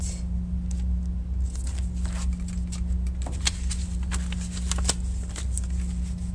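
Paper vocabulary cards handled and taped down inside an academic folder: soft shuffling, rustling and small tape crackles in short irregular bursts over a steady low hum, close and fairly quiet.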